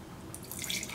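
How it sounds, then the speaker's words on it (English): Wine pours from a decanter into a glass, a faint liquid trickle that builds into a brighter splashing near the end, heard close and alone. "We'll pour this taste into our glass."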